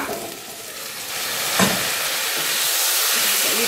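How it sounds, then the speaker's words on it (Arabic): Toasted vermicelli and Egyptian rice sizzle steadily in hot oil in a pan for koshari, with a soft hiss and brief scraping stirs, close and continuous without speech. "تقليبه كده"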